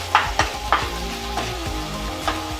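Spice paste sizzles and fries in hot oil for a kofta curry, with several sharp spatula scrapes and clacks against the pan over a constant close crackle; no voices.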